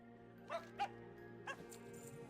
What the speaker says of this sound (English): That's all they know how to do is bark.